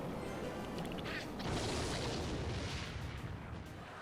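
A Clash Royale rocket spell slams into a tower with a loud, roaring blast that swells around the middle and rumbles on for several seconds, no voices present.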